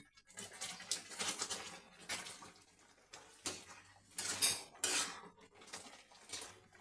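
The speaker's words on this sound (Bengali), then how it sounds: "এবার আমাকে অনাবরত লেড়িয়ে যেতে হবে" A spoon scrapes and clinks against a pan while thick sweet tomato chutney is stirred continuously, producing repeated irregular metallic scrapes and knocks at moderate loudness, close up and without talk.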